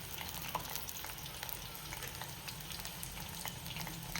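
Henna leaves and other herbs frying in heated homemade hair oil, a steady crackling sizzle with faint stirring, continuous and close with no talk.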